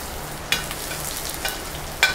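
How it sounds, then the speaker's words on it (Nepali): Fenugreek seeds frying in hot oil for a mushroom curry, a steady close sizzle with sharp crackles and stirring clicks popping out near the start and end, no voices. "मेथी यसलाई अलिकति रातो हुने गरेर भुट्नुपर्छ"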